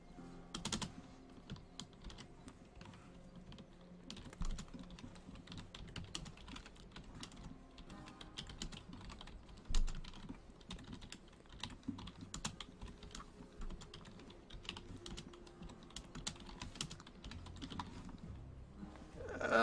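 Steady typing on a computer keyboard, quick irregular key clicks continuing throughout at a close, moderate level with no talking.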